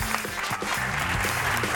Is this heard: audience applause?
yes